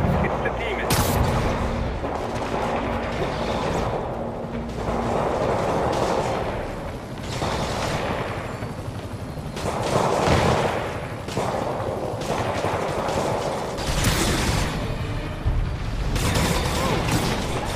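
Bursts of gunfire and explosive booms from the Spider-Man video game, repeated impacts in an ongoing battle layered with game sound effects and dialogue.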